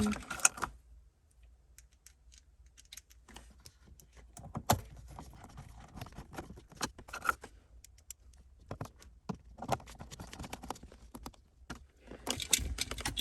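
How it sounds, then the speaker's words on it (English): Screws are put back into an interior panel of a BMW E46, with sparse small clicks, taps and plastic rattles spread unevenly across otherwise quiet, close-up handling noise. "I'm going to put these screws back in."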